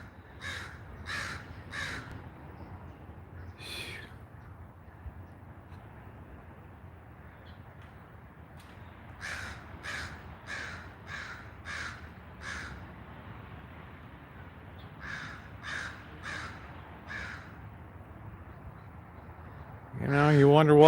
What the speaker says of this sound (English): So all we got here is crows.